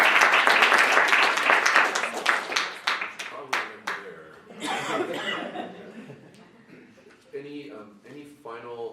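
An audience at a human trafficking panel at the Utah State Capitol applauds the panelists, a loud burst of crowd clapping that gradually thins out, mixed with scattered laughter and chatter before voices take over.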